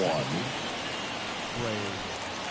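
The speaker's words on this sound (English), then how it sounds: "It feels like we might be headed towards a rain delay if the weather doesn't ease up, Chris." Rain falling steadily during a baseball game, a dense continuous hiss filling the whole stretch with faint tonal sounds from the broadcast beneath it, no clear talk.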